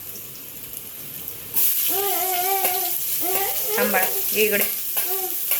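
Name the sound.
chopped onion added to hot garlic oil, sizzling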